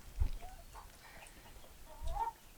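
A few soft, scattered clucks and low murmurs from nearby chickens eating lettuce and kale in a deep-bedded chicken run, quiet and intermittent.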